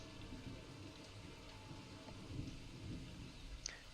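Steady rain with low rumbling thunder in the video game Daggerfall, a continuous moderately loud wash with a rolling swell of thunder near the middle.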